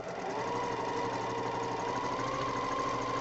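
A sewing machine runs in one steady, continuous burst as a quilter stitches quarter-inch seams on pieced quilt block fabric, a close mechanical hum with a constant motor whine and no voices.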